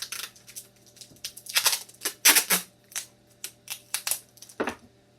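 Tape ripped off the roll while wrapping homemade nunchucks: a string of short, close crackling tears and snaps, with the loudest bursts bunched in the middle.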